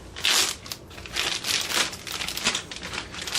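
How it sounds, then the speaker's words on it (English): A plastic bag crinkles and rustles close up around a ball of rested pierogi dough, giving several loud bursts of crackling that continue for a few seconds, with no talking. "we just put it in a plastic bag"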